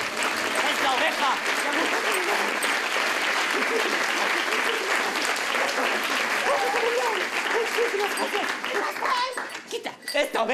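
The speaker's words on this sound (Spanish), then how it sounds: "Señoras y señores, un fuerte aplauso," Loud, sustained applause from an audience at a village theatre show in Aibar, dense clapping mixed with children's voices and some crowd chatter, fading unevenly near the end.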